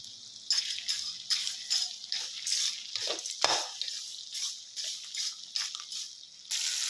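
Vatha kulambu paste with rock salt gets stirred and sautéed in a pan, with steady scraping spoon strokes and a soft sizzle, close up and without talk.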